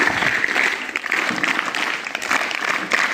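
Audience members at a Mazi Shala Sundar Shala school program applaud the teachers, producing a brief burst of loud, close, dense clapping that carries steadily throughout.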